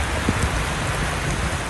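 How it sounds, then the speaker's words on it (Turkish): Heavy downpour in Bursa city centre, a dense, steady hiss of rain pouring down with no voices. "Bursa Valiliği'nin uyarısı sonrası şehir merkezinde sağanak yağış etkili oldu."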